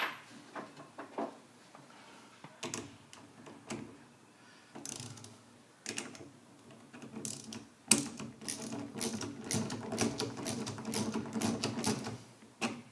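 A 2.5-inch bolt tightened onto a nylon lock nut during a Hydroclaw installation, giving close, uneven ratcheting clicks and metallic rattles that grow busier and denser toward the end.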